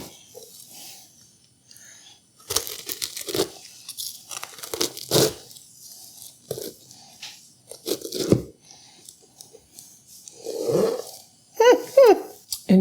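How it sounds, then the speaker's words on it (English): Knife slicing through homemade peanut butter chip and jelly bars with a crumb topping and jam filling, giving repeated crisp crunching bursts, close and fairly loud, separated by quiet gaps, with a brief voice near the end. "It sounds pretty amazing when you're cutting it."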